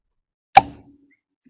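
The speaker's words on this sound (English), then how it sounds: "that's what happens when people talk over my cork pop" A single sharp pop as the cork comes out of a bottle of Still Austin cask strength bourbon, close and crisp, then a brief fade into quiet.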